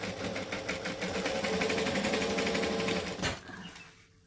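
A sewing machine stitching down the side of a fabric bag, a fast even mechanical chatter of needle strokes running close and loud for about three seconds, then stopping abruptly and fading out.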